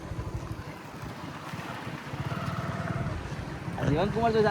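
A motorbike rides through a village, its engine giving a steady low throbbing hum under heavy wind buffeting that grows louder toward the end, with brief voices in the background.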